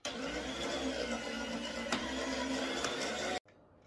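Venison bacon runs through a slicer with a steady, loud mechanical whir and hum that holds for about three seconds before cutting off abruptly.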